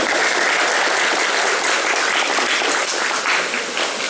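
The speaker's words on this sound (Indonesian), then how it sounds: "Tepuk tangan untuk beliau." An audience applauding a speaker at a talk event, dense sustained clapping from many hands that fills the space evenly throughout, loud and close with no speech over it.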